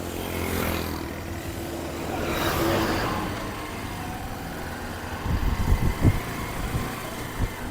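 Cars and other vehicles pass along a busy road near a petrol pump on the way to Shirdi, with a steady engine hum of traffic that swells as vehicles go by, ending in a few louder low rumbles from close passes.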